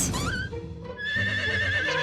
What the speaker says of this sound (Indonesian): Kita udah punya kuda.